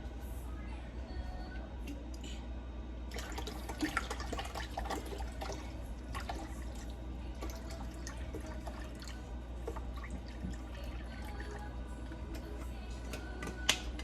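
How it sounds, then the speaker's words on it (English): Apple cider vinegar trickles and splashes into a measuring cup already holding water for a pickling brine, a soft, continuous pour with small drips and clinks in a quiet kitchen. "I'm gonna just fill the rest with our apple cider vinegar"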